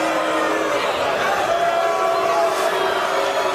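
A live MMA crowd at Caesars Windsor in Windsor, Ontario boos in a steady, dense wash of voices during a Bellator bout, sustained and fairly loud for the whole stretch.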